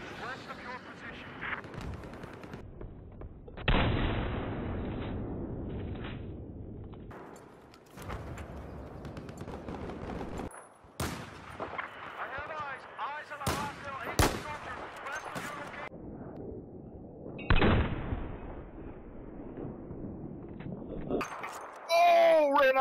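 Bursts of gunfire and heavy explosions crash in the Battlefield 4 video game, loud volleys broken by brief quiet gaps, with a player's voice heard between them.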